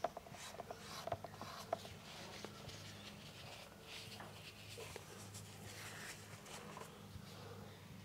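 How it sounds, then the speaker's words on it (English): Paint is scraped off a slippery, glossy undercoat on a painting's background, giving soft, close, raspy strokes with a few sharper clicks near the start, under a low steady room hum. "we can just scrape off what we don't need"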